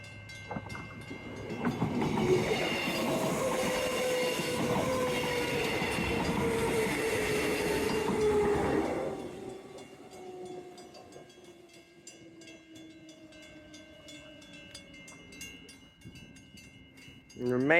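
An electric train with pantographs, bound for Perth, rolls loudly through Welshpool station with a broad rumble and wheel squeal. The sound fades after about nine seconds, and a steady tone trails off as it moves away.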